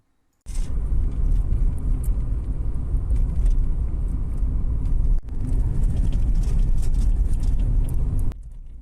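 A car drives along a two-lane street in Philadelphia's Italian Market, a steady close tire and engine rumble that starts abruptly, holds for several seconds with a brief dip midway, then falls back.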